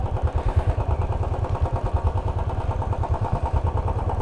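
A Royal Enfield Bullet 350 motorcycle idles nearby at a guest house in Rishikesh, a steady loud thumping beat with a rhythmic low pulse and mechanical clatter, no voices over it.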